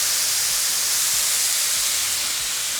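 Carne asada steak searing on a comal over medium-high heat, a steady bright hiss of sizzling fat with faint low thumps underneath, continuous and close.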